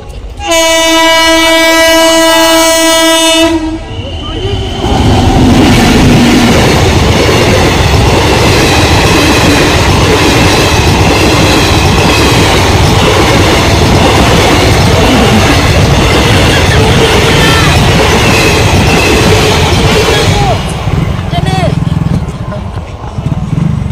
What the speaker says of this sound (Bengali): ওই তো গো বড় ভাই আসছে গো ট্রেন, দেখি দাঁড়াও দেখি, ট্রেন আসবে দেখি।